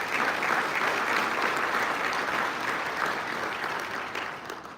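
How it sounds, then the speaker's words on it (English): Sustained audience applause at a motorsports team's vehicle unveiling event, a dense, even wash of many hands clapping throughout, loud and continuous with a slight fade at the end. "I would now like to take a moment to give a round of applause"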